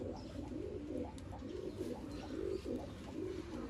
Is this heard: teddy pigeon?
yes